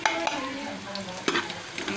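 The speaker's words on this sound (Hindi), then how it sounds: "इसमें लहसुन अदरक भी ऐड कर दिया है और इसको 1 मिनट तक चम्मच हिलाएंगे।" A spoon stirs garlic and ginger frying in a pan for a bean curry, giving a steady close sizzle with scraping strokes throughout.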